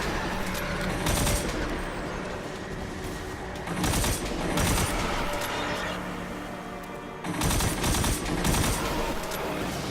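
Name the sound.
gunfire from a burst-fire pistol in the video game Destiny 2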